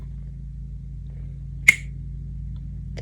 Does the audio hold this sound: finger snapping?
yes